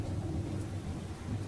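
A thunderstorm at sea: a steady, dense roar of wind and rain with deep rumbling thunder running through the whole stretch, loud and continuous, with no voices.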